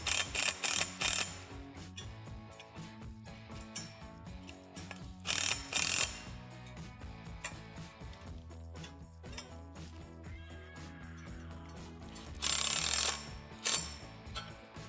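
Hardware on a Lifetime Streamline basketball system is tightened during assembly, producing repeated ratcheting clicks and mechanical grinding up close, broken by several louder bursts of rapid ratchet turns.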